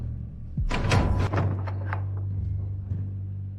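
A door is forced open with a sudden heavy thud and rattling impacts, followed by a sustained low hum and scraping as it gives way.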